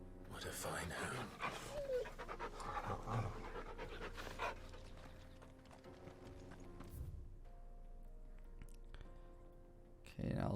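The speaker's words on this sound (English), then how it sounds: "What a fine hound." Torgal, the hound in Final Fantasy XVI, pants steadily close by, with soft whimpery breaths over game music and a voice talking.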